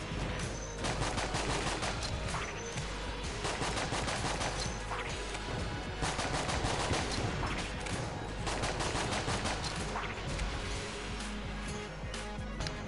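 Rapid, continuous video game gunfire from homing bullets in Enter the Gungeon, a dense, unbroken barrage of shots and impacts layered with game effects throughout.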